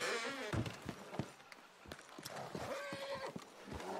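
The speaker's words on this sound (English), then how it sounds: "Those horses are very upset." Agitated horses whinny and neigh in the Red Dead Redemption 2 video game, with hoof clops and restless movement near a farmhouse, several short calls spread across a busy game soundscape.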